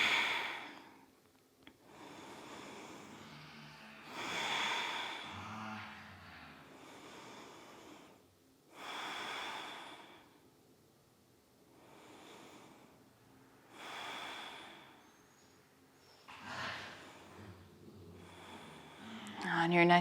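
Slow, deep breathing during a yoga twist in a vinyasa flow: a soft, close sequence of breaths in long, regular cycles of inhales and exhales, some with a faint nasal rasp.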